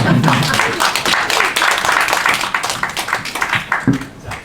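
Audience claps at a book launch event at Kyobo Bookstore Gwanghwamun. A fairly close burst of applause is mixed with other room sounds and fades unevenly toward the end.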